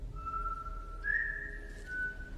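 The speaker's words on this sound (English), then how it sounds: "So all he does is whistle." A man whistles a steady, sustained tune, with one held note rising a little louder partway through, heard alone against a quiet low hum in an action film scene.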